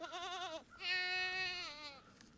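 Goats bleat close by on a farm: two clear, wavering calls, the first short and the second longer and louder, alone with no talk over them.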